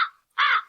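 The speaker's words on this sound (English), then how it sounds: "There's a bird in here a lot." A bird caws like a crow indoors, one clipped call followed by a longer, loud, hoarse caw close by, with no one talking.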